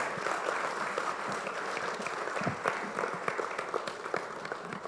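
Sustained applause from a conference audience at an African engineering event, many hands clapping in an even, crackling stream that holds steady for several seconds with no speech.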